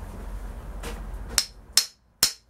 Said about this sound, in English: you just tap your former in like that, and as we hit this former, it'll expand the pipe